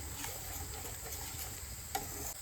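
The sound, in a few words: capsicum frying in ghee for white sauce pasta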